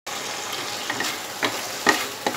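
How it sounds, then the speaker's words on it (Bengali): Spiced shol fish mince is sautéed in a pan over a steady sizzle, with several sharp spatula scrapes and stirring clatters breaking through at irregular intervals. "এইবারে আমি মশলা অ্যাড করার পরে আরও 5 মিনিট কষিয়ে নেব"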